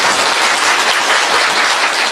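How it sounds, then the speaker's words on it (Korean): Steady, dense applause from a political rally crowd, loud and continuous throughout with no voices rising above it. "박수 한번 쳐주십시오"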